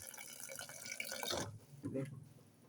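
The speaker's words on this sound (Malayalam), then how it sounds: "വെള്ളം ഞാൻ ഒഴിക്കുന്നത് നോക്കിക്കാം, എത്ര വെള്ളം ഒഴിച്ചെന്ന് നോക്കേ." Water is poured from a vessel over chopped vegetables in a pot for idli sambar, a brief close splashing gush that cuts off halfway through, followed by a few faint drips and a soft voice.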